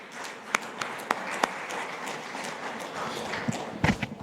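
An audience claps in welcome for a speaker at a corporate tax session on free zone reporting, a brief moderate burst of scattered hand claps with a few sharper individual claps standing out.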